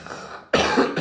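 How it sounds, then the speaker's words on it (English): A single loud, harsh cough bursts out after a quiet half second of low room noise, close to the listener. "but I'm coughing"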